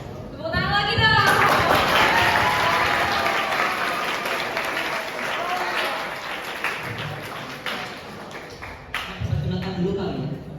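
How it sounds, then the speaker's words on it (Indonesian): An audience claps loudly for a choreographer taking the stage at an art event talk, sustained dense applause that fades out near the end as a voice speaks. "Tepuk tangan lagi dong."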